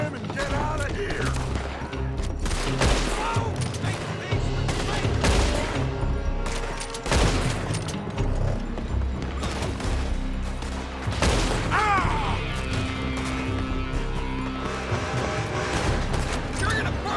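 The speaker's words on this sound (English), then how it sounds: "They're shooting from that building!" Bursts of gunfire and scattered shots from a Western shootout in Red Dead Redemption 2, with loud volleys recurring through the scene and game voices and background sound running underneath.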